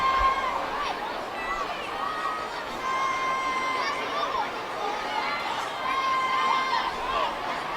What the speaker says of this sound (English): I'm hearing chants of breadsticks from some confused kids in the crowd.